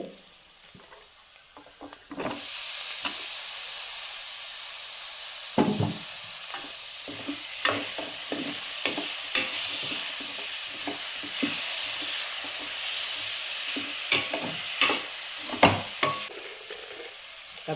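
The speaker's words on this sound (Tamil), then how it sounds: "இதை ஒரு கிண்டு கிண்ணோடனே இதில் தக்காளி பழத்தை போட்டிருக்குங்க." Tomatoes sizzle in an oily pan with masala spices and fennel powder while a spoon stirs them, bright frying hiss broken by repeated scraping strokes, close and loud, no talk.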